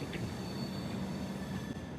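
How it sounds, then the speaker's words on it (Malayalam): A train rumbles steadily at Kozhikode railway station with a low mechanical drone and faint metallic hum, no talking. "കോഴിക്കോട് റെയിൽവേ സ്റ്റേഷനിൽ എത്തിയിട്ടുണ്ട്"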